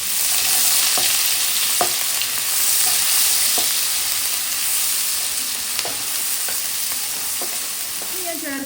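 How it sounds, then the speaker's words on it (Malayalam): A medium onion and chilli sauté in a hot pan for paneer upma, giving a bright, steady sizzle broken by repeated sharp scrapes and taps of a spoon stirring against the pan, close and continuous with no talking. "ഒന്ന് വഴറ്റുക."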